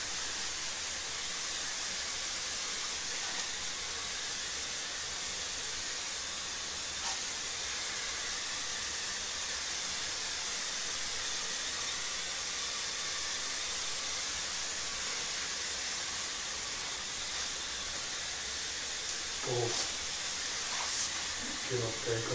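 Steady broadband hiss of water spraying from a nozzle, continuous and fairly loud throughout, with a few brief clatters near the end.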